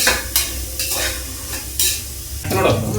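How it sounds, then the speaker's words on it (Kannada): Washed soybeans fry with tomato in hot oil in a pan, a steady sizzle broken by repeated stirring scrapes at regular intervals, close and fairly loud with no talking. "ತೊಳ್ಕೊಂಡಿರೋಂಥ ಸೋಯಾಬೀನ ಈಗ ಹಾಕೊಂತೀನಿ ನೋಡ್ರಿ. ಇದೊಂದು ಸ್ವಲ್ಪ ಎಣ್ಣೆ ಒಳಗೆ ಚೆನ್ನಾಗಿ ಫ್ರೈ ಆಗಲಿ."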